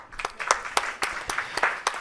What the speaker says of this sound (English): We deserve a big round of applause for the videography team